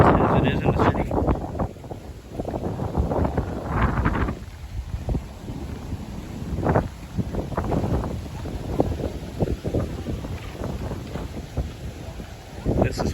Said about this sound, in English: The breeze on this side of the island is great.